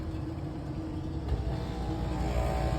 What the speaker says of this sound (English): So we got blower.